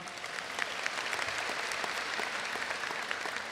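At a Gloucester High School graduation, an audience gives a quiet, even round of applause for the school board chair, many hands blending into a soft, steady patter heard from a distance.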